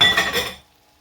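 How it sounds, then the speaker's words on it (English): A spoon scrapes sweet chili seasoning from a pan into a dish for Thai-style chicken, giving a few quick clinking scrapes close by that stop abruptly, with no talk. "I want to scrape out all of that deliciousness though, all of that wonderful seasoning into here"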